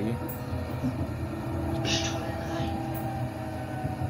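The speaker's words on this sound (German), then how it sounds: "Heute fahren wir mit der Straßenbahn Linie 10, der BLT." Low rumble of a BLT Line 10 tram rolling along rails between Dornach-Arlesheim and Rodersdorf, Switzerland, steady and moderately quiet, with faint squeals and rattles from the wheels.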